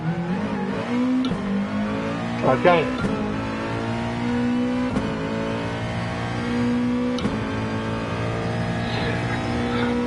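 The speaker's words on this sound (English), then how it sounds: "let's see how difficult it is to get the car going again" Racing-game car engine revving as the car gets going again after a spin, a steady mid-level drone with rising and falling pitch sweeps and a few sharp transients, while someone talks briefly over it.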